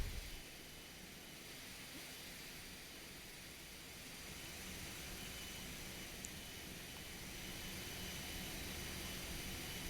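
Steady jet engine roar from IAE engines on a FlightFactor A320 flight simulator airliner, a continuous broadband whine and rumble held at even loudness throughout with no talking.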